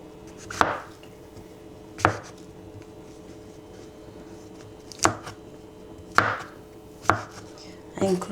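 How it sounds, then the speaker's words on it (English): A knife chops mushrooms, stems included, into small pieces on a cutting board during home dinner prep. The strikes are sharp and spaced apart, about six in all, close and fairly clear over a quiet room. "So this is how the mushrooms look like. I just cut them into small pieces"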